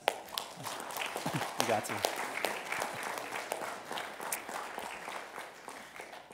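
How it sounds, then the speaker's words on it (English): Church congregation applauding for mothers during a service, a sustained spread of clapping with a few cheers and a brief spoken voice on top, moderately distant and fairly soft. "let's give a round of applause for our mothers"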